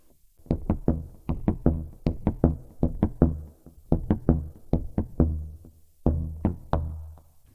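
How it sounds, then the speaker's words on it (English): Short, dull percussive plucks on a bass guitar muted near the bridge, about a dozen clicky thuds in uneven rhythmic bursts with brief pauses between. "how do we produce ghost note sound? You come down towards your bridge, play your notes muted."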